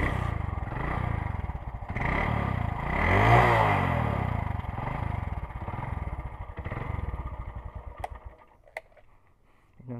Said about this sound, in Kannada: ನಂತರ ಬೈಕ್ನ ಸ್ಟಾರ್ಟ್ ಮಾಡಿ ನೋಡೋಣ